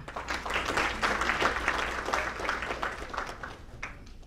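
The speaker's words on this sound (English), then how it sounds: "Once again, give a round of applause for Grace Man." An audience at a Muslim community centre fundraiser in New York in 2019 fills the room with continuous, moderately distant applause, many hands clapping in a dense patter that slowly thins out.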